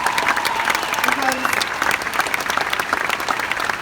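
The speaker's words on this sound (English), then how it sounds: "he deserves the biggest freaking round of applause ever" A crowd claps in a dense, steady round of applause, with voices faintly audible beneath and a brief spoken word near the start.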